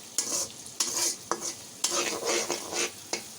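Prawns frying in a pan and stirred with a utensil, sharp scraping strokes repeating every half second or so over a continuous close sizzle.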